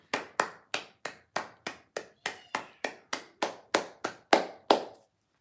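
A single person claps slowly and deliberately, about fourteen sharp, evenly spaced claps, close and isolated with no crowd around them.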